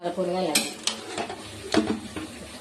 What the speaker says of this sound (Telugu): అన్ని కూరగాయలు వేసేసుకొని కలుపుకోవాలి